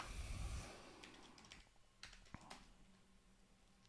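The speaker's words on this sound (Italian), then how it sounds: "digitata password sbagliata infatti" A computer keyboard clicks through a short burst of quiet, irregular keystrokes while a password is typed, faint and close, after a brief swell of background noise, with no talk.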